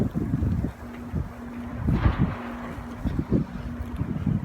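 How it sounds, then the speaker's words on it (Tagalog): Winter snowstorm wind gusts buffet the microphone in uneven, rumbling bursts, loud and close, with a faint steady hum running underneath and no voices. "Lakas po ng snow."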